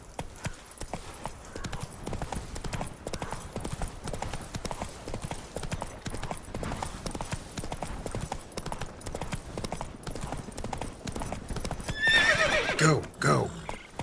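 Roach the horse in The Witcher 3 video game, with rapid galloping hoofbeats running throughout and a loud neigh near the end, a voice speaking briefly over it.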